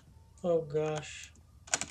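Rapid keyboard typing and mouse clicks come from a Guild Wars: Factions speedrun session, close and crisp, first partly under a voice and then as a quick cluster of taps near the end.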